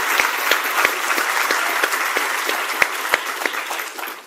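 A round of applause from the audience at an evening conversation series on technology and business, steady broadband clapping with a few sharp individual claps, fading toward the end.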